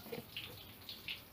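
Tap water runs into a household storage tank, a soft steady wash of flowing water with a few brighter splashy surges, close by and alone with no talk.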